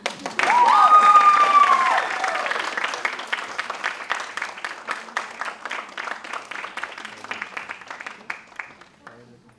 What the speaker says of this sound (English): Some more claps.